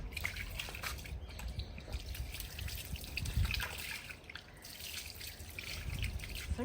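Water trickles and dribbles steadily at a moderate level, with faint irregular drips and splashes throughout and a low background hum.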